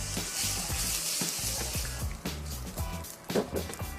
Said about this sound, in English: So we want to get the onions going, and then we'll add the ginger and garlic so those two don't burn.